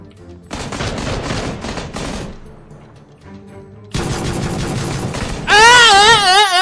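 Rapid video-game pistol fire in two dense bursts of repeated shots, loud and close, with a pause between and a wavering moaning voice at the end.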